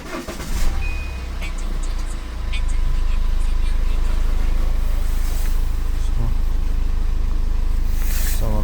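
A car engine idling steadily after a cold start, freshly filled with oil and additive, a loud constant low rumble with a short uneven stretch before it settles; someone talks over it.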